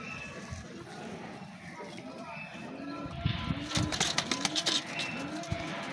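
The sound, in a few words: pigeons cooing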